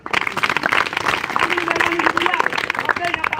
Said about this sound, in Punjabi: ਤੇ ਫਿਰ ਤਾੜੀ ਨਹੀਂ ਮਾਰੋਗੇ ਯਾਰ